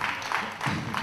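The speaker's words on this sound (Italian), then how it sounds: "Fate un applauso a Caterina." Audience applause for a woman named Caterina at a live show, a steady, dense wash of clapping that fills the whole moment without a break.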